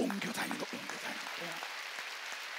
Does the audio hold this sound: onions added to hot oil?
no